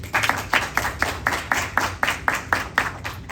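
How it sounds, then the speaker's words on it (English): A graduating class applauds at a graduation ceremony, rhythmic group clapping with regular sharp claps, moderately loud and steady across the short stretch. "Give yourself a round of applause."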